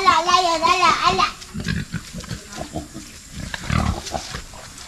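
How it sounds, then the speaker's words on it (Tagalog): A large pig of about 70 to 80 kilos, about to be slaughtered in rural Apayao, squeals loudly and shrilly in a long cry, then grunts and snorts in shorter bursts as people talk nearby. "Ayun yung kakatayin natin baboy ngayon, no?"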